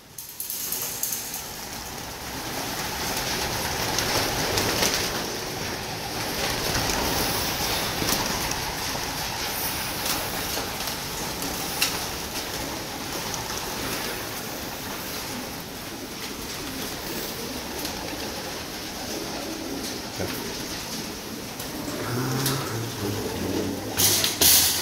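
A pigeon coos steadily and close by, with a ratcheting mechanical clatter and a soft background hum running under it.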